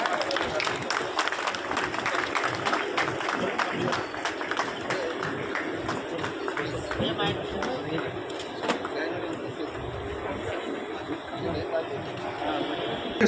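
An audience claps steadily to welcome guests at a BSNL staff honour ceremony marking Dr B. R. Ambedkar's 134th birth anniversary, with dense sustained applause and a few sharper claps over a continuous crowd bed.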